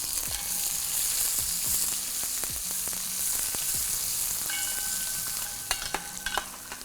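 Dry red chillies, two or three cloves and cumin sizzle in hot frying oil for a spicy Hyderabadi potato masala: a steady, close hiss with a few light stirring clinks near the end.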